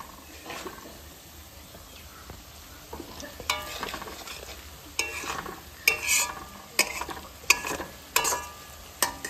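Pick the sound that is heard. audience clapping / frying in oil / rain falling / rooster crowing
frying in oil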